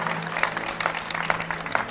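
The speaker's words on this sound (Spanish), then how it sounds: "un aplauso por favor para ella" An audience at a book presentation gives moderate applause for the San Mateo 2024 regional fair queen, a soft, steady patter of clapping heard at some distance over a low electrical hum.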